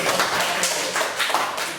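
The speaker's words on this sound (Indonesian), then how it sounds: "tepuk tangan lagi" Applause from a classroom group presenting at an Islamic religious education class, a dense, continuous patter of many hands clapping together at fairly loud volume.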